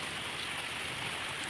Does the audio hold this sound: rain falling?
yes